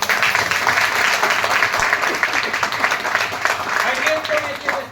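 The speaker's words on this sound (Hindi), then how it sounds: "एक बार जोरदार तालियां होगी।" An audience at a motivational sales seminar breaks into loud, sustained applause, dense clapping filling the hall for several seconds with voices faintly mixed in.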